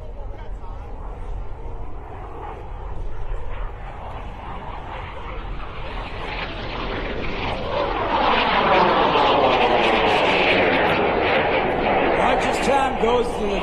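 A jet aircraft performs tight loops at an air and space show, its engine roar swelling and sweeping in pitch as it passes, heard under continuous announcer commentary.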